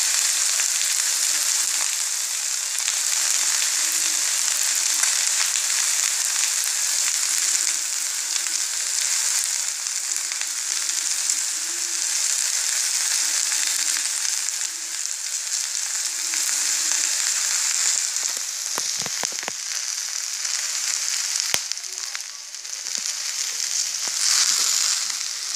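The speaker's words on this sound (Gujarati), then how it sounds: "તો મિત્રો, આપણે ભીંડાને થોડી વાર ચડવા દેશું" Okra (bhindi) for a yogurt-style dahi bhinda sizzles and fries steadily in a pan, a dense, even hiss that continues throughout with a few faint clicks near the end and no voices.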